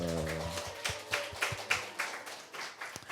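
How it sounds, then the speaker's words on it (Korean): Church congregation at a Sunday service claps to welcome children, a scattered, fairly soft round of hand claps in an uneven rhythm, starting just as a voice trails off. "우리 환영의 박수."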